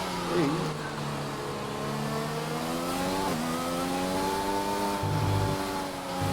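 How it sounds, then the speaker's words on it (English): Formula 1 car engine in a Formula 1 racing video game at the Australia round, a steady mid-pitched drone easing as the car rolls slowly toward the pit lane, with pitch shifts and a brief low burst near the end. "Now we'll turn the engine down."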